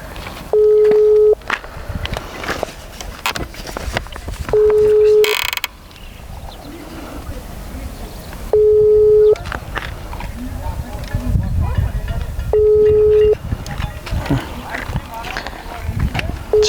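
A telephone call rings unanswered, its ringback tone repeating at steady intervals of about four seconds, loud and clear, with background noise and some movement between the rings.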